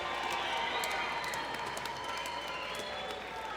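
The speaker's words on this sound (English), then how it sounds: "let's give both of these fighters a big round of applause." A crowd at an MMA event applauds both fighters after the bout, a continuous, somewhat distant wash of clapping with faint cheering throughout.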